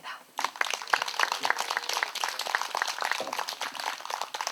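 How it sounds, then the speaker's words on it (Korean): An audience at an outdoor poetry and culture festival at a Korean temple claps in a steady wash of dense applause that rises quickly and holds for several seconds. "큰 박수 부탁드립니다."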